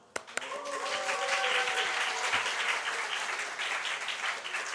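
Applause from a church camp audience fills the room after a Bible verse is read aloud in Thai, a couple of sharp claps starting a sustained, dense clatter that holds steady to the end.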